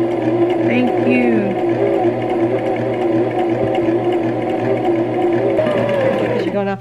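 Sewing machine stitching fabric at a slow, steady beginner's speed, a continuous motor hum with rhythmic needle clatter running throughout, while people talk over it.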